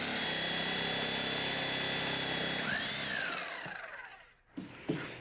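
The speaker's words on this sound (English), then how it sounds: "This is called a reciprocating saw because the blade reciprocates back and forth." A reciprocating saw runs hard and steady, cutting through the bottom of a wall stud, its loud buzzing drone holding for several seconds before winding down, followed by a couple of light knocks.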